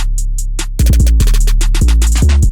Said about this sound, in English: including the snare roll, this 808 pattern sounds something like this.